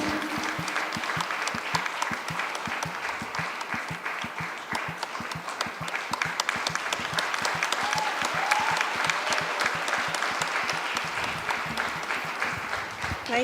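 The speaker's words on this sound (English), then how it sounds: "Let's have a round of applause for Jap sir, please." Audience at a design-week panel discussion at a university gives sustained, dense clapping, loud and steady throughout, with some talk mixed in.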